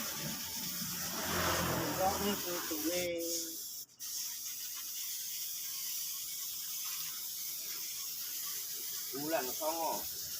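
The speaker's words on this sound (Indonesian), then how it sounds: "kita semproti tipis-tipis saja seperti ini terlebih dahulu" A spray paint can hisses in light coats over motorcycle parts, a steady airy spray running for several seconds near the mic, with someone talking over parts of it.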